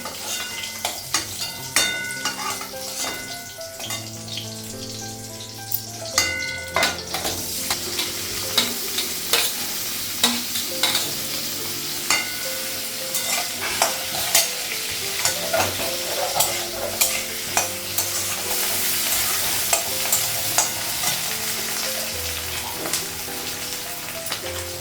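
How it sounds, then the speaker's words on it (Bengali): Potatoes frying in a pan for an egg and potato curry, a steady loud sizzle under repeated sharp scrapes and clinks of a spatula against metal, close up, with no speech. "ডিমটা ভাজা হয়ে গেছে, সেদিনটা বের করবো, আর আলুটা একটু ভেজে নেব।"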